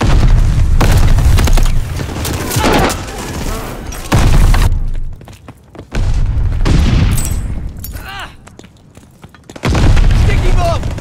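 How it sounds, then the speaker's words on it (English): A sticky bomb detonates in Call of Duty Vanguard during a Patrol match on the Tuscan map: loud booming blasts and gunfire bursts in several heavy waves separated by brief lulls, with game voices calling out over the action. "Sticky bomb out."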